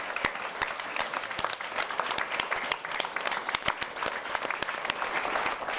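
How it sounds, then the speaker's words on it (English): Studio audience applause closes a televised Chicago candidate forum, steady dense clapping at moderate volume throughout, no voices over it. "let's give them a round of applause."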